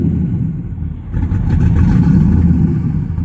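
A 4th-generation Chevrolet Camaro engine idles roughly nearby, a loud low rumble that dips briefly and then surges back, heard with no one talking.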